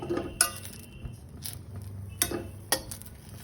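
Patishapta pitha made with a milk batter fry in a pan, with a soft low sizzle under several sharp metallic clinks of a utensil against the pan, spaced irregularly and fairly quiet, with no talk.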